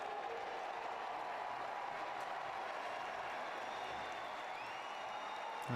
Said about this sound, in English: Federico Bernardeschi appreciating the applause from the Juventus fans